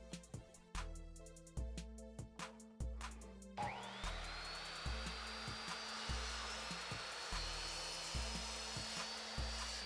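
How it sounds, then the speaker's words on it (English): Miter saw cutting plywood at a 45-degree angle: a series of short repeated tool bursts gives way after about four seconds to a loud, sustained whining cut with steady high-pitched ringing, close and alone. "I cut the plywood at a 45-degree angle on the miter saw"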